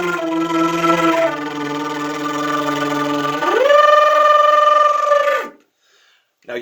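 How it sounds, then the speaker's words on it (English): A flute played with flutter tonguing while a voice hums along, holding a sustained buzzing tone that steps up in pitch partway through before cutting off into silence, close and clear with no talk. "do the voiceover while you're doing the flutter tonguing"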